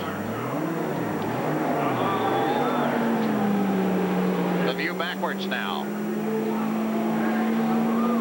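IndyCar race cars of the 1990 CART field roll out at Milwaukee, giving a steady, slowly rising engine drone throughout while a commentator talks over it.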